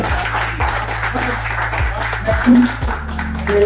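An audience applauds in a continuous, textured patter that runs under steady background music, loud and close for the whole stretch.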